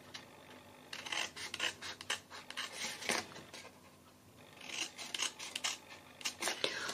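Scissors snipping through paper gift packaging in repeated short bursts of crisp cuts, close and fairly quiet, with a brief lull in the middle before the cutting resumes.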